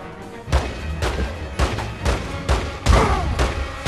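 Gunfire at police in The Godfather 2, heavy booming shots landing roughly every half second in a loud, close barrage with no talk over it.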